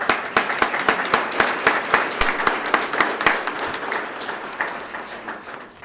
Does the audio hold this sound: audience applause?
yes